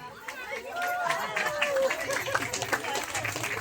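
An audience at a lucky draw claps for the winner, moderate applause mixed with crowd chatter and a voice speaking through it.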